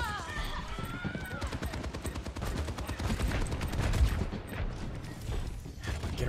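Rocket Barrage ability in Overwatch 2 unleashing a dense, continuous volley of rapid rocket blasts and explosions, loud and sustained throughout with voices talking over it.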